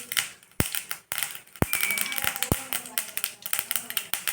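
Sharp, irregular pops and crackles of mustard seeds spluttering in hot oil, close and snappy, scattered over a few seconds.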